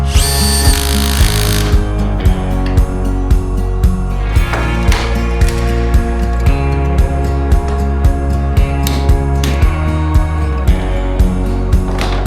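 A power drill drives screws into a wooden frame for a DIY sliding table saw cabinet in a workshop, with a steady motor hum broken by regular short bursts throughout.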